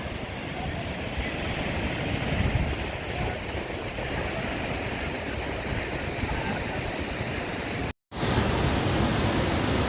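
Tham Phra waterfall in Bueng Kan pours in a dense, steady roar of rushing water, loud and unbroken apart from one brief cut near the end.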